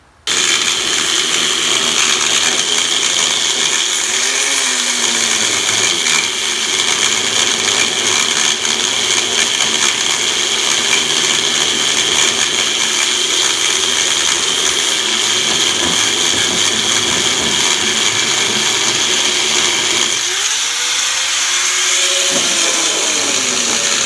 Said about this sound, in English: most of it's gonna be grinding all this crap off it